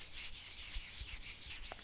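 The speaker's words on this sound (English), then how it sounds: "I'm going to rub it into the temples, the sides of your face" Peppermint oil rubbed between two palms during a whispered scalp massage, a steady soft hissing friction of skin on skin, close and continuous, alone with no talk.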